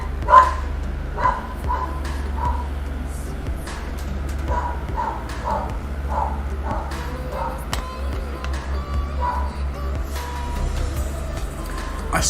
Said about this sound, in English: I don't know what to do about her barking